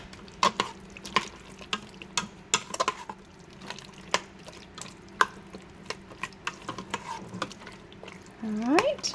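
Chili ingredients being stirred in a Fissler Souspreme multi pot, irregular soft scraping and wet clicks of the spoon against the pot, with a short voice at the end.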